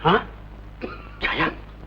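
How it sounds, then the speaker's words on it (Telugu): Three short, harsh bursts spread across a couple of seconds, sounding like a person coughing or clearing the throat nearby. "దగ్గు కనపడుతోంది"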